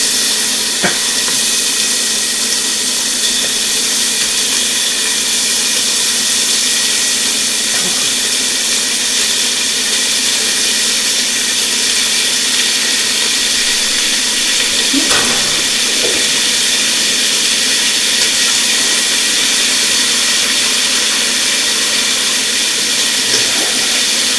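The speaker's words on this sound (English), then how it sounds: "let's put the bacon in here." Raw bacon hissing in a pot during chowder cooking, a steady close, loud sizzling hiss with a few faint clinks, no talking.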